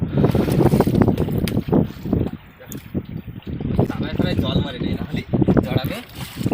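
Wind buffets a boat on the Bidyadhari river, with waves lapping against the hull; the roar is loud and gusty, close to the microphone, and a voice talks throughout.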